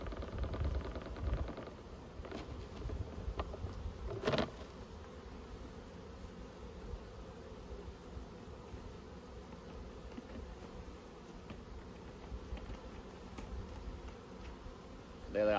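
Honey bees buzz in a big tub after being shaken in, a dense steady hum held close throughout with a couple of brief knocks near the start and middle.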